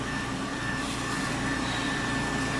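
An indoor air conditioner runs with a steady, loud broadband whoosh and a faint constant whine, holding level throughout with no talking over it.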